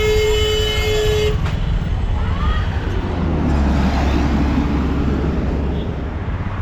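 Tuk-tuk ride through busy Delhi traffic: a continuous close engine rumble and road noise, a vehicle horn tooting at the start, and traffic sounds all around.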